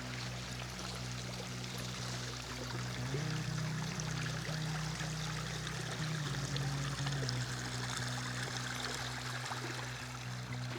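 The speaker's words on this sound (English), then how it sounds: "I knew I heard water." A woodland stream flows and trickles steadily, a continuous close-up wash of water with a low gurgling undertone, heard alone without any talking.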